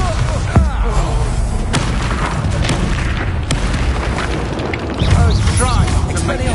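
A Confringo spell explodes in the video game Hogwarts Legacy, with loud booming blasts and crashing impacts among a dense, busy battle soundscape.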